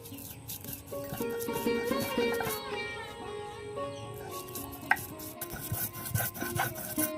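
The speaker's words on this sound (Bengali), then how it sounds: "তো এখন আমি এটা পাটায় বেটে গুঁড়া করে নিব।" Roasted spices ground by hand on a stone grinding slab, giving a rough rubbing and scraping rasp in uneven strokes, fairly close and moderately quiet.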